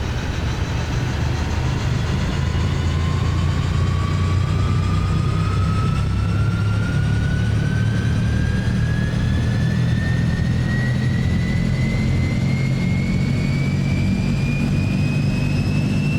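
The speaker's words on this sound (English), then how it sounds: "Once again, nice and loud, this aircraft." An Azurpoly C-160 transport aircraft engine runs in the MSFS 2024 flight simulator, a loud continuous roar with a slowly rising turbine whine as it spools up, steady and close throughout.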